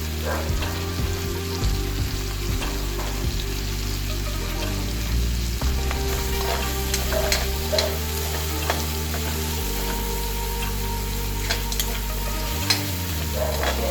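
Chicken frying in a pan until golden brown, a steady close sizzle with frequent stirring and scraping clatter throughout, no voices.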